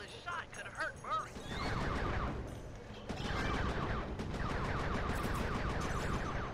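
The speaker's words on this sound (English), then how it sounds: "Be careful with those fireworks, Panda King." Fireworks fired during a level of the video game Sly 3: Honor Among Thieves make a dense, continuous crackle of rapid bursts and whistling pops that stays loud throughout, with game voices heard at the start.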